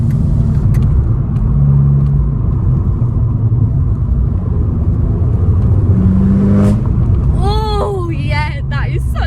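A hot hatch engine drones steadily on a race track, heard from inside the cabin with a brief shift at the gear change, while people talk over the rumble near the end.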